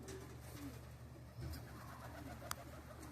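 Soft, low pigeon coos rise a few times at close range over a quiet outdoor background at a pigeon show, with a brief sharp click near the end.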